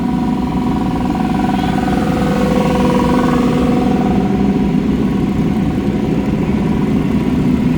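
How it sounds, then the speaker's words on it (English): Dune buggy engines idling and running on a muddy Caribbean trail before pulling out, a loud, steady mid-pitched motor drone with a faint undulating rev, close by and continuous. "we're starting our engines. We're getting ready to pull out here"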